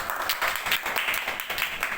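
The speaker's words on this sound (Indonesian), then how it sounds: "Oke, tepuk tangan." Students clapping in a classroom, a brief round of uneven hand claps at moderate level, slightly distant and scattered.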